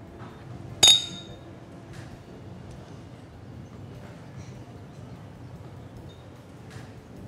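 Glasses clink once in a toast at a dinner table, a single bright, sharp chime early on, followed by quiet room ambience with no clear talk.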